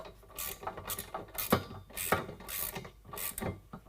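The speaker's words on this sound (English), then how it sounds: "I'm going to use a 19 millimeter wrench and ratcheting wrench to tighten these down" A ratcheting wrench tightens 19 mm nuts on a N-Fab RKR step mounted to a 2019 Ram 1500 pickup, with a rapid run of close clicking pawl sounds in uneven bursts.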